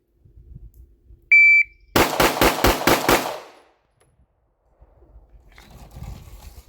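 Glock pistol fired rapidly on a shot timer: a high electronic start beep, then about six loud, sharp shots in quick, even succession, followed by quiet and faint room noise.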